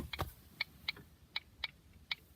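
A car's hazard lights ticking: faint, crisp clicks at an even, steady rhythm, close by and alone.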